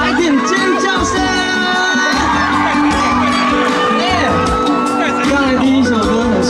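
A crowd at a beach music festival on Zhubei's Xinyue beach screams and cheers loudly and continuously, with whoops and shouted voices rising in waves under a host speaking.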